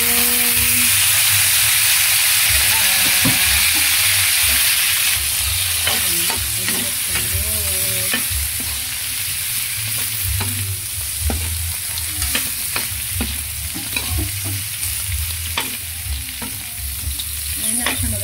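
Chicken pieces sizzle and fry in a pan for Visayan-style adobo while being stirred, with a steady loud hiss and repeated scraping strokes of the utensil throughout, no voices.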